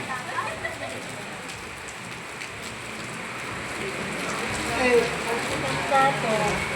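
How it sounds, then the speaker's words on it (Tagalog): Steady rain falls throughout, a dense, even patter on surfaces with no breaks, while people talk and call out over the wash of the downpour. "At naulan."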